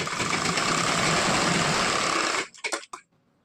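A sewing machine runs fast and steady stitching the side seam of a blouse, a continuous close whirring that stops abruptly, followed by a few brief clicks and handling sounds.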